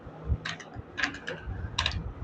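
Typing on a computer keyboard in short bursts of quick clicking keystrokes with brief pauses, close and moderately loud, no talking.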